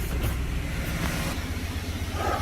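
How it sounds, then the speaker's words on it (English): A Cadillac Northstar engine idles after a starter replacement, a steady low rumble with an even throb, close by and continuous, no voices over it. "The car is running."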